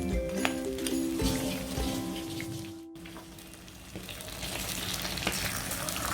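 Sweet paniyaram made from idly batter sizzle in ghee in a paniyaram pan, a soft, even fizzing crackle like light rain, with a few faint clicks and a brief pause midway.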